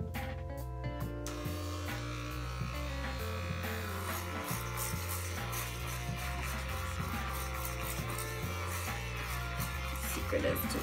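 Electric clippers with a number 2 guard buzz continuously close by while shaving a head, their hum shifting as they move, with music playing in the background.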